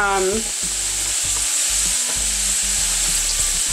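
Kale frying in a pan for a cooked kale salad, with a steady loud sizzle and repeated stirring scrapes, no voices.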